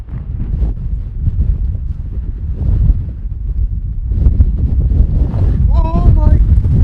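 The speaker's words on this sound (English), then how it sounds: "It is slippery. And windy." Strong wind on a slippery hillside on the Isle of Skye roars and buffets the microphone in loud, heavy gusts. Voices talk and exclaim briefly near the end.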